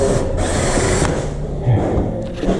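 A power drill runs steadily and loudly during a glulam beam installation, a continuous mechanical whir with brief ratcheting pulses and a few faint bumps, with no talk over it.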